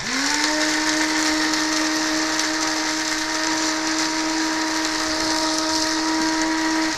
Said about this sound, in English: Don't stop grinding until it's a powder.